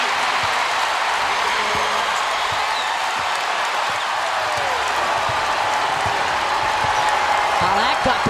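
A basketball arena crowd at a Big East women's game between Villanova and UConn roars and cheers after a three-pointer, a dense sustained wash of noise with a commentator talking over it.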